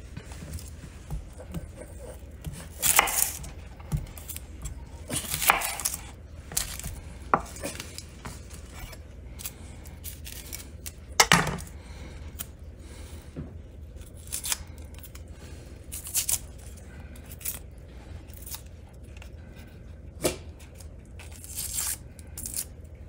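A kitchen knife chops an onion for a chicken pot pie, giving a series of sharp, irregular cutting clicks and taps on a board, some sounding close and crisp, with quiet gaps between bursts and no talking.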